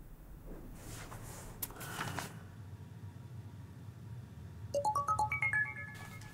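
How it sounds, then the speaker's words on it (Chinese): A telephone ringtone rings in a quiet room, a bright electronic melody of quick rising tones that starts after a few seconds of near silence and soft rustling. "电话。"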